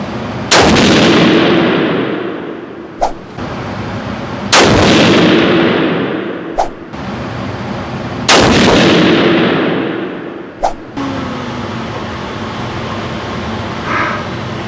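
Rifle shots fired one at a time during a Hornady ammunition lot test outdoors, three loud booming reports each followed by a long rolling echo and a sharp metallic action click, with quiet ambience between them.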